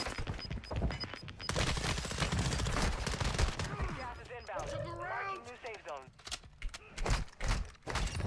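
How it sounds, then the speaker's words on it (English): Gunfire crackles in the video game Warzone 2, with repeated sharp shots and bursts under players talking over voice chat, fairly close and loud throughout. "those people from on top of the thing are still shooting at us"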